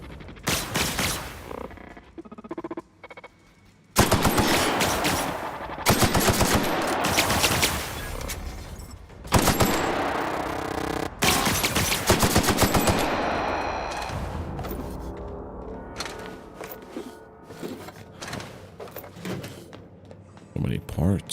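Gunfire in The Outer Worlds during the Gorgon DLC: sustained bursts of automatic shots and loud impacts that start around four seconds in, with pauses between them, under game sounds and occasional talk.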